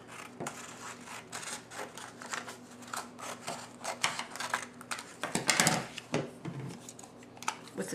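2.5-inch circle punch cutting paper: a series of close handling clicks and rustles, with one louder crunching punch in the middle and lighter taps around it, no talking.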